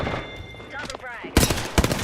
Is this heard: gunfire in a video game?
yes